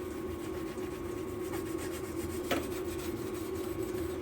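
Steady, faint rasping and rubbing as the inside of a welded car jacking point on a GTI is scuffed, a continuous abrasive scratch with one brief louder scrape near the middle.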